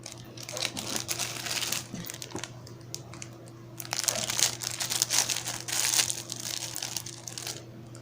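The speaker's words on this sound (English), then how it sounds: "that is inside this very gorgeous and elegant gold paper bag. Let's open." A gold paper bag is opened with continuous paper crinkling and rustling close by, rising and falling in bursts over a steady low hum.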